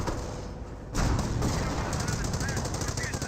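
Battlefield gunfire from Company of Heroes, a sniper firing at an anti-tank gun amid a dense crackle of shots and loud bursts, with a sharp surge in intensity partway through and a commentator's voice over it.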